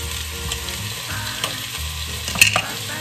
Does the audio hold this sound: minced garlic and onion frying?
yes